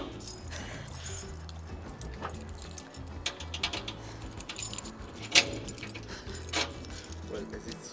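A bunch of keys jangles and clinks as they are tried one after another in the locks of farm buildings, metallic rattles rising and falling close by under steady people talking.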